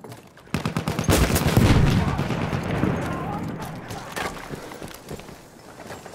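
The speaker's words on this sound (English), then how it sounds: "Enemy machine gun sighted." Enemy machine gun fire in a team deathmatch shooter game, dense rapid bursts of shots rattling over several seconds with overlapping battle noise.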